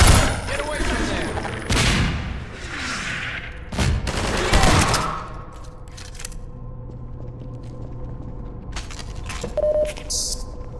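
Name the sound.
automated turrets firing in Half-Life 2 VR video game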